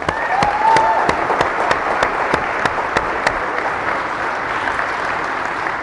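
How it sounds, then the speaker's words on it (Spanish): Applause from a church congregation for a group of young people during an evening service, a steady dense wash of clapping with sharper individual claps standing out, fairly close and full throughout. "Fuerte el aplauso para estos jóvenes."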